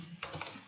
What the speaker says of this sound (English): So here I'll provide some effect, so I'll simply type transition,